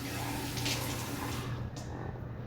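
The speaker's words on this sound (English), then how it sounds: "I'm going to rinse these out" Tap water runs steadily as cans are rinsed out in a kitchen, a close, even rush of water with a faint splash partway through.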